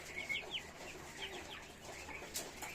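Broiler chickens in a cage give faint, scattered clucks and short calls against quiet background noise, with no voices.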